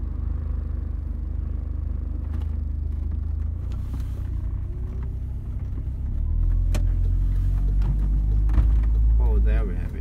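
A car rolls through town streets in Vordingborg, Denmark, with a steady low engine and road rumble that swells as it picks up speed, and people talk quietly over it.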